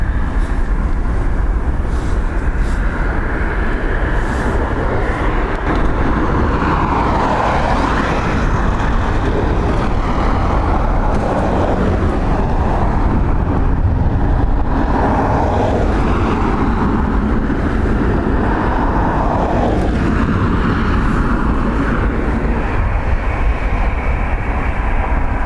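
Aer Lingus airliner departing Dublin Airport for Las Palmas, a steady, loud broadband jet roar sustained throughout with shifting rumble, no voices over it.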